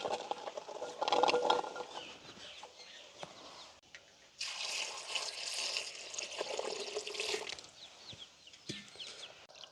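Peeled onions, garlic and green chillies are washed in water by hand in a village kitchen, with faint splashing and sloshing in uneven bursts and roosters clucking in the background.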